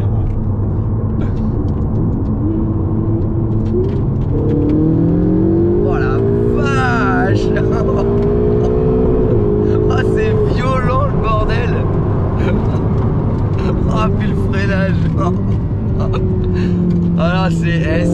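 A Ferrari 488 GTB accelerating, its engine note rising and shifting through gears as a loud, sustained drone heard from inside the car, with people talking over it.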